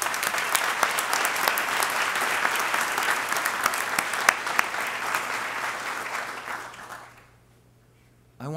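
An inauguration audience gives a round of applause, dense, loud clapping from a large crowd that holds for about seven seconds, then fades quickly into near silence.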